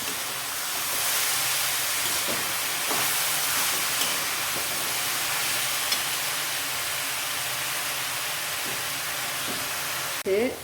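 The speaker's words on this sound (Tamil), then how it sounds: "இது நல்லா வதக்கிடலாம்" Brinjal sautéing in a pan for a mung dal gothsu, a steady broad sizzle and hiss with occasional stirring scrapes, close and continuous, then a brief clatter at the end.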